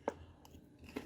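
Crisp crunching bites of crunchy bacon at a breakfast table, two sharp crunches about a second apart with quieter chewing between them, close and fairly faint.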